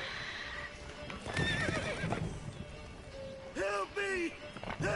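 In the video game The Witcher 3, a horse gives two loud whinnies amid clip-clopping hooves. A voice speaks over the scene.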